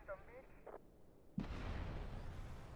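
A grenade blast in the video game GTA Vice City: a sudden loud burst mid-clip that rolls into a sustained rumbling roar, with a voice speaking briefly before it.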